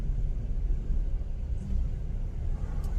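Low, steady rumble of a slow car driving past with road noise, fairly quiet and continuous, with no voices.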